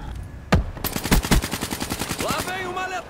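Rapid automatic gunfire from Call of Duty Black Ops 3 multiplayer, a dense burst of loud repeated shots with a few heavier blasts, followed by higher-pitched game effects.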